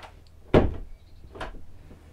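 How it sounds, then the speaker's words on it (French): The partition door of a 2022 Adria Axxes DC 650 camper van, which closes off the toilet and bedroom, shuts with one firm thud and then gives a softer second knock, heard alone in a quiet interior. "Une porte de séparation qui ferme les toilettes et qui vient refermer la chambre"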